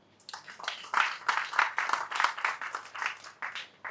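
Audience at a cancer awareness and screening event giving scattered applause, a sparse run of individual hand claps rising and falling over several seconds, with no voices.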